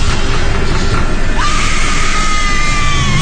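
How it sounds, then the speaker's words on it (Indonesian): A woman screams hysterically in fear and pain, a loud drawn-out cry rising midway through a dense, harsh roar of background noise. "juga diiringi suara teriakan perempuan yang histeris ketakutan, kesakitan"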